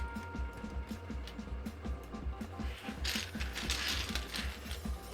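Typing on a KBD67 keyboard fitted with Zilent switches: soft, muted keystrokes tapping in a steady rhythm, quiet and close, with a denser flurry of key presses in the second half.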